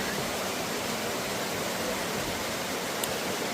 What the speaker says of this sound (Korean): 진주탄 폭포입니다. 구체군의 수많은 폭포 가운데서도 아름답기로 유명한 3대 폭포 중 하나입니다.